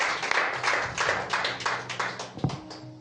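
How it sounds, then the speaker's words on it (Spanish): A church congregation applauding in praise of Jesus during a sermon, steady rhythmic hand clapping from many people, close and fairly loud, with a few louder claps standing out near the end. "Dale un aplauso a Jesús"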